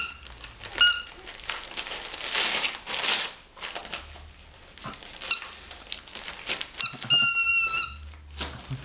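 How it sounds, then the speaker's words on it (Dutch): A squeaky fish-shaped toy squeaks repeatedly inside a birthday gift as wrapping paper is crinkled and torn apart, with crisp paper rustling between the squeaks and a louder burst of squeaks near the end. "ik hoor al wat piepen"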